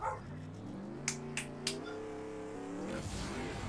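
A car driving in the Roblox game Mad City, its engine a steady rising hum over a game soundtrack, with three short sharp clicks partway through.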